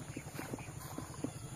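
A carabao walks along a trail carrying a load, its hooves striking in a steady, even clip-clop rhythm, close and moderately loud against constant outdoor background noise.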